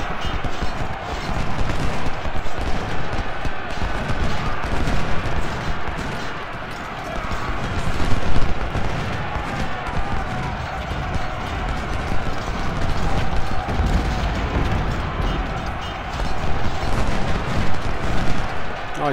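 Cannon and artillery fire on an American Civil War battlefield in Ultimate General: Civil War, a dense continuous roar of booms and rumbling mixed with hoof-like clatter, loud throughout.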